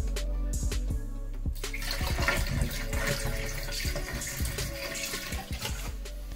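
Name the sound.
water running from a camper shower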